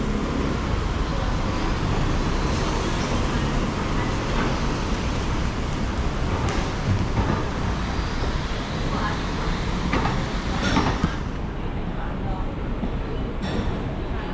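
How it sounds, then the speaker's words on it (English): Street traffic in Macau rolls by as a continuous, moderately loud wash of passing cars and road noise, with a few louder swells from nearby vehicles. "Look at all these cars."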